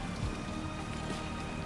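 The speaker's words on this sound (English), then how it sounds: "Of course it's starting to rain." Steady rain falls in Death Stranding 2, an even, dense hiss of drops pattering on surfaces, fairly quiet and continuous with no voices.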